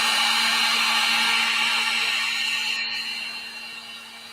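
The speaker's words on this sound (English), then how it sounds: "And then I'm going to hit this with the heat gun." A heat gun blows hot air over a fluid art painting with a steady, loud whooshing hum and a constant tonal whine that fades gradually toward the end.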